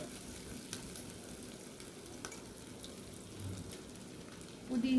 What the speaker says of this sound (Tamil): கருவேப்பிலை, கொத்தமல்லி, பச்சை மிளகா போட்டு நல்லா வதக்கிட்டு